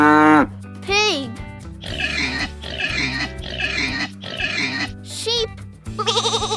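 A pig grunts in a run of four rough, close oinks, with brief higher squeals and voice-like sounds at the start and end.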